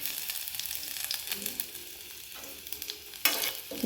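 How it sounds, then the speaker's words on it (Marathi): Cumin seeds, green chili and grated ginger sizzle in hot oil, a steady close hiss with soft stirring scrapes and no talking. "तेल गरम झालं आहे यामध्ये जिरे घालून घ्यायचे त्यानंतर हिरवी मिरची किसून घेतलेली अद्रक"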